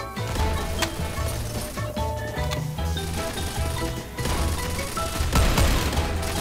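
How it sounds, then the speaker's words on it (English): Rapid gunfire from a shotgun in Garry's Mod, repeated sharp blasts scattered across a busy, loud battle mix with clattering impacts, bursts clustering around 1 s, 4 s and 5.4 s, no talking. "this is a shotgun, so I need to get down there"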